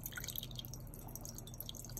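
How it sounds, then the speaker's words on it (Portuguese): Drinking water from the mountains trickles and drips into a small pan for a street cat, a light, close, continuous splashing and patter at low level with no talk. "Agora eu vou colocar água pra ele, que é água potável."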